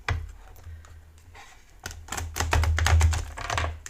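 Oracle cards are shuffled close by in quick bursts of crisp, rapid flicks and taps, quiet at first and then denser and louder toward the end, with no talking.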